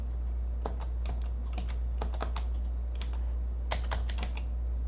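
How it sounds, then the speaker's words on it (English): Keys on a computer keyboard tapped in short irregular bursts, arrow keys and letter keys pressed one after another, close and fairly quiet with no talking. "here I'm hitting my up and down arrows"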